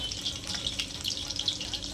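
Dahi vada batter frying in hot oil in a home kitchen, a steady close crackling sizzle with scattered bright pops throughout.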